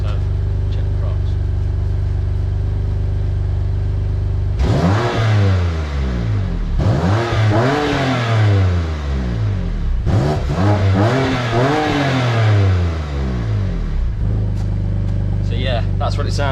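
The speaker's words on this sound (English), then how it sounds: "So I'll just place it here and then I'll give it some revs, so hopefully you can hear it." A BMW S55 engine fitted with filters revs repeatedly, several rising and falling blips over a steady idle, loud and close, no talk.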